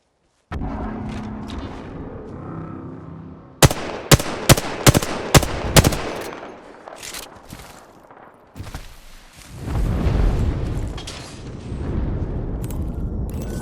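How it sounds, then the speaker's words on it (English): In the Apex Legends video game, a called airstrike lands as a rapid series of sharp, loud blasts, followed by scattered gunfire and a rumbling aftermath, with no voices. "Calling the airstrike"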